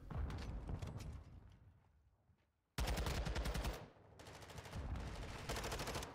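Rapid SMG bursts rattle in a Call of Duty match, two long dense strings of automatic fire separated by a lull, with shorter bursts following, loud and close.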